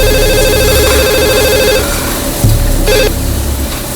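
A telephone rings with a warbling electronic trill, one long burst, a pause, then a shorter burst, loud and close.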